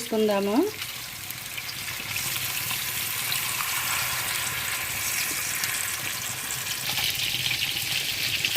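Fish pieces fry in a pan for fish pulusu, a continuous moderate sizzle that runs throughout, with a brief voice near the start.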